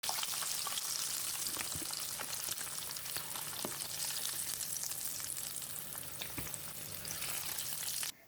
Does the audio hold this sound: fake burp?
no